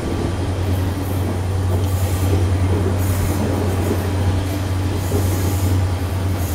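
A KTM intercity train runs through dense jungle, its steady rumble and rolling wheel noise continuous and loud throughout, with faint higher squeals near the track.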